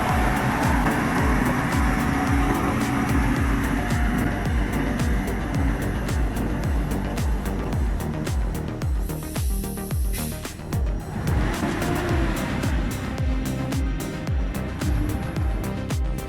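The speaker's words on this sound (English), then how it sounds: "The roar of the engine blends with the sound of the quiet deep forest" A heavy timber truck with a load grinds along a steep, winding forest mountain road, its deep engine roar loud and steady throughout with no talk.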